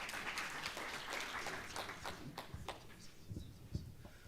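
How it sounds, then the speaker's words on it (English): Sustained audience applause at an education breakfast meeting honouring top performers, a dense patter of many hands clapping throughout with a few louder individual claps near the end, no voices on top. "A round of applause again."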